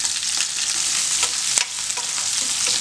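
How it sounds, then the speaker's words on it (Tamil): Small shallots, halved, sizzle and crackle in hot oil for a Tamil bisibelebath tempering, a loud continuous frying hiss with occasional stirring clicks, close up and with no talking. "சின்ன வெங்காயத்தை நம்ம 2 கட் பண்ணி போட்டுக்கலாம்."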